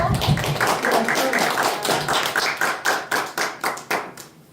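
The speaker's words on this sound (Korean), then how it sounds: "큰 박수로" Audience clapping at a school dream-presentation contest, loud and close, building from dense applause into a few slower rhythmic claps that fade out at the end.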